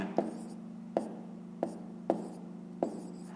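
Handwriting, likely pen on paper, while working a fifth-grade maths exercise, a short stroke landing about every half second to second, quiet and close over a steady low hum.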